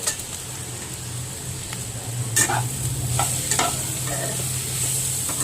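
Spices with turmeric powder being stirred in a frying pan, a steady sizzle with a few sharp scrapes of the spoon against the pan, close and fairly loud, with no talking.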